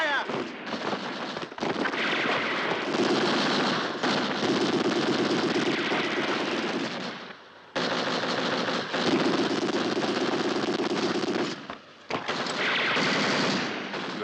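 Battle gunfire from a 1969 war film set at El Alamein: loud, sustained automatic weapon fire and volleys roaring almost continuously, broken by two brief lulls, with occasional voices buried underneath.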